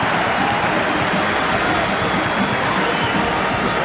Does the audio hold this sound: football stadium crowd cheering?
yes